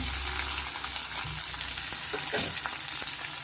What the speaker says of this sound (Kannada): ಸ್ವಲ್ಪ ಫ್ರೈ ಆದ ತಕ್ಷಣ ನಾವು ಈಗ ಕ್ಯಾಪ್ಸಿಕಮ್ಮು ಮತ್ತು ಕ್ಯಾರೆಟು ಬಟಾಣಿ ಸೇರಿಸ್ಕೋಣ